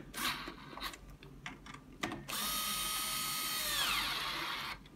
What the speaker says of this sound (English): you can tighten them, screw them all the way back in.